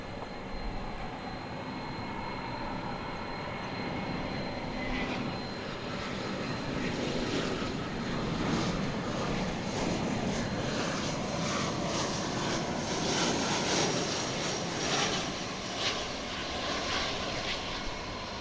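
A 28-year-old airliner, built in 1996, roars steadily at DFW Airport, its engine noise broad and loud throughout with no voices.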